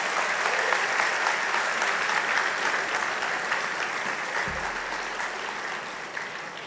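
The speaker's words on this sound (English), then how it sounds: "Let's give them a round of applause." An audience at a Holocaust Remembrance Day gathering claps in sustained, dense applause that stays loud and even, slowly tapering toward the end.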